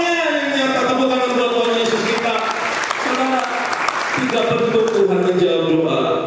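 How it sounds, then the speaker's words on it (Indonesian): Congregation applauding during a church worship service in Makassar, a dense, steady clapping that fills the whole stretch, with a loud sung or spoken voice over it. "Tepuk tangan buat Tuhan Yesus kita"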